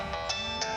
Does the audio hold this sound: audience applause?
no